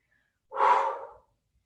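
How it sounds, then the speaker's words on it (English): A single loud, heavy breath during a workout, one sharp gasping exhale of about a second, close and alone in silence. "my breathing is like so loud at this point"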